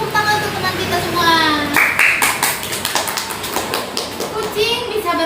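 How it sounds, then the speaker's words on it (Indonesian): Young pupils clap together in a primary classroom during a practice lesson, rhythmic close claps starting after a teacher's voice and continuing under children's chatter before fading back to talk. "Berikan tepuk tangan untuk teman kita semua."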